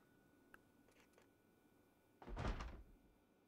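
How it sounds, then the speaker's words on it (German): Inside a house in Project Zomboid, zombies knock against a door, heard as a muffled burst of thumping and rattling after a few faint taps, with low game ambience throughout. "Man sieht ja die Tür wackeln, wenn sie dagegen klopfen."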